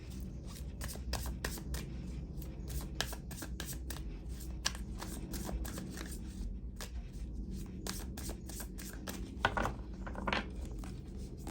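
Tarot cards are shuffled and drawn from a second deck, a rapid run of crisp riffling flicks and soft card slaps close by, with no talking.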